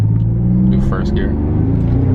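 A 1988 Nissan 300ZX Turbo (Z31) accelerates in first gear, its engine a loud, steady low rumble heard from inside the car, with voices in the cabin over it.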